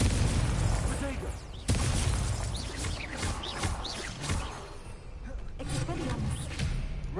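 A Confringo blasting spell explodes in the video game Hogwarts Legacy: a sudden loud broadband boom about a third of the way in, set amid busy game effects and voice chatter.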